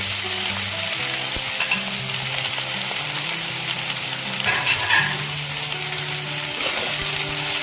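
Potatoes, green chilies and finely chopped onion fry in a pan with a steady, close sizzle and occasional stirring scrapes, continuous throughout with no talking.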